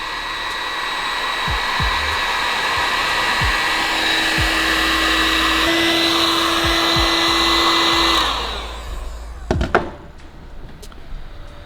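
Heat gun blowing a steady, loud whooshing hum for about eight seconds while melting solder and a heat shrink sleeve on a wire repair, then cutting off to a few handling knocks and clicks.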